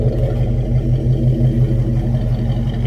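A Chevrolet Caprice engine with a knock idles close by with a steady, slightly uneven low rumble and faint clatter, heard from behind the car.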